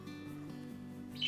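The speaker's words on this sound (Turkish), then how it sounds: "Bu arada kuş da benden fazla konuşmaya başladı." A pet bird indoors gives a quiet, brief chirp near the end over faint, low-level room sound, distant and soft, with no one talking.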